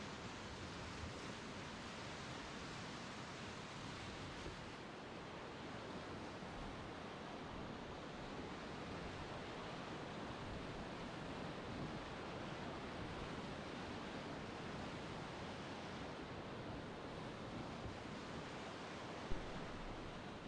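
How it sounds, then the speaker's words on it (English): Whitewater rapids on the West Fork of the Hood River, a continuous section of waves and holes producing an unbroken, loud rushing roar that stays steady throughout. "And below here is just a nice continuous section of whitewater."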